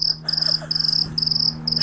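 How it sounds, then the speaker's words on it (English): Crickets chirp in steady, evenly spaced trills against a quiet hum, a short looping sound effect with no voices. "If my editor puts crickets on that one"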